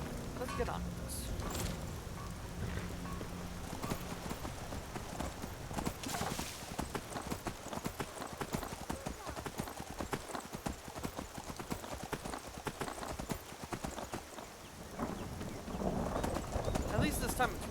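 Horse hooves clip-clop steadily while riding in a video game, a continuous galloping rhythm under occasional talk and rain, with a brief whinny.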